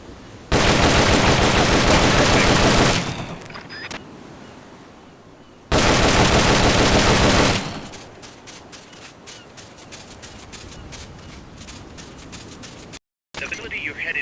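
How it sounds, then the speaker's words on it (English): An M16 assault rifle fires rapidly in the video game Metal Gear Solid Peace Walker: two long, loud, sustained bursts of automatic fire, separated by quieter game sounds. "The M16 is a standard assault rifle, capable of rapid fire."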